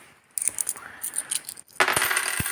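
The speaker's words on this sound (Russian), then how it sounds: "Можно прокинуть другую монету." Coins drop into a VN-5 coin acceptor at a self-service car wash, a close run of bright metallic rattles and clinks followed by a louder cascade of jingling with a couple of low thumps.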